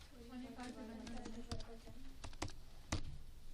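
Computer keyboard keys are tapped in a few short bursts of clicks, while a person talks over the typing at close range.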